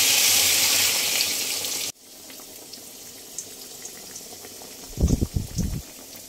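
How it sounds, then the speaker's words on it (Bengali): Water poured into sautéed jackfruit and prawn curry in a pan produces a loud rush that stops abruptly, followed by a quieter bubbling simmer with a few soft knocks of a utensil against the pan. "এবারে এটার মধ্যে জলটা দিয়ে দিলাম"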